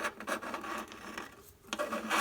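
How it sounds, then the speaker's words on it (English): Bandsaw cutting steel from a G Body Monte Carlo car frame along a traced line, a continuous close rasping grind that dips briefly before resuming, with no voices. "So now I'll just cut it on the saw, tracing the line."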